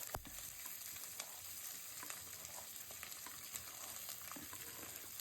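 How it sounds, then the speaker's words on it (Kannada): Onion, curry leaves, three chillies and peanuts fry together in oil for capsicum chitranna, making a faint, steady sizzle with occasional small crackles and light stirring taps, no voices. "ಅದಾದಮೇಲೆ ಈರುಳ್ಳಿ, ಕರಿಬೇವಿನ ಸೊಪ್ಪು, ಮೆಣಸಿನ್ಕಾಯಿ 3 ಹಾಕ್ಕೊಂಡು ಫ್ರೈ ಮಾಡಿ ಸ್ವಲ್ಪ ಹೊತ್ತು."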